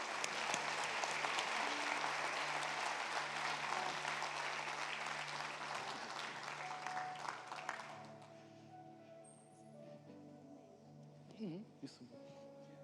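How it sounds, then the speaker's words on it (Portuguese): A church congregation at a graduation service claps strongly for about eight seconds, then the applause fades out. Quieter voices and a few stray sounds follow. "E vamos aplaudir o Senhor, meus irmãos"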